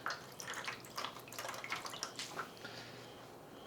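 Water drips and trickles from a tightly wrung-out towel, a run of small close splashes and patters over a quiet background.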